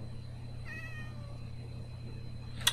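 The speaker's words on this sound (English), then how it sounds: "oh, there's a black cat in it too." A black cat in the Minecraft video game gives a single short meow near a witch hut, heard clearly over a steady low background hum.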